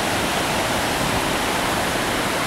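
Doe River water pouring over a weir dam at Covered Bridge Park in Elizabethton, Tennessee, a steady, dense rushing roar with no let-up, heard close and alone.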